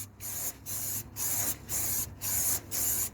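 Underbody protection sprayed from an aerosol can through a normal nozzle onto a car's underside, six loud hissing bursts about half a second each, separated by short pauses, close and with no talk.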